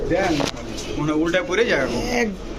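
Male Kata-wala Saki Teddy pigeons, a Pakistani Teddy fancy breed, coo softly and steadily close by, nearly buried under continuous talking.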